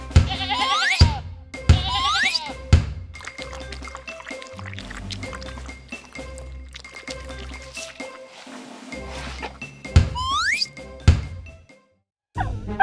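A heavy cartoon sheep struggling through a door gives several short, wavering bleats, with a few more later, mixed with music and splashy effects.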